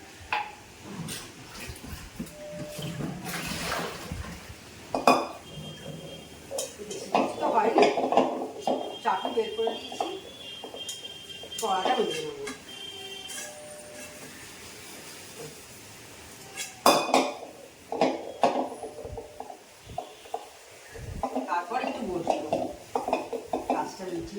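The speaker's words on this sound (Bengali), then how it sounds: "এবার আমি কড়াটা মেজে নিই" A karai (wok) is scrubbed in a home kitchen amid intermittent clinks and clatters of pots and utensils, close and moderately loud, with someone talking over it.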